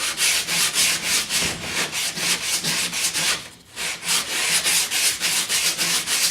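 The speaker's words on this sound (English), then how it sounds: "So we're just going to sand it a little bit" Steady back-and-forth scraping of a sanding block on body filler on a car door, rhythmic strokes close up with a brief pause midway.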